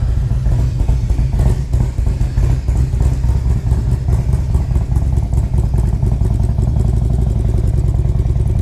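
A Harley-Davidson Street Glide CVO motorcycle with an upgraded engine idles loudly and steadily nearby, a deep rumbling, clattering throb that continues throughout without voices.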